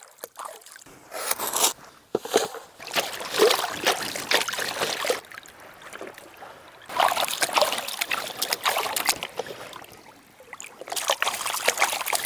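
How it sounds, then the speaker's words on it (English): Magnetic beach sand concentrate from the Lake Superior shore is dumped into a pail in several bursts of gritty scraping and pouring trickles, with short pauses between, fairly close and moderately quiet. "I'm just going to dump it in my concentrate pail and on to the next one"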